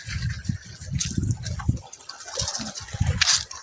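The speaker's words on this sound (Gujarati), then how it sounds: "જો આ છે ને પાણી વારવાનું ચાલુ છે અત્યારે." Irrigation water runs through a village farm field, flowing and splashing close by in uneven gushes with soft low knocks mixed in.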